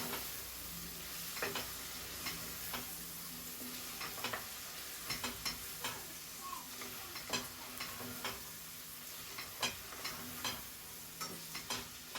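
Pork seasoned with salt and black pepper sizzles steadily in a pan while being stirred, with irregular scraping and clicking strokes against the metal rising over a constant hiss; no voices.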